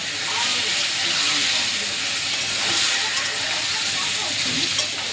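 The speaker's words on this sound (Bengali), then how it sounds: "ওই তেলের মধ্যে এবার পটলগুলো ভেজে নেবো" Sliced pointed gourd (potol) frying lightly in white oil in a home kitchen, a steady, even hiss of sizzling fat that holds close and constant throughout without pauses.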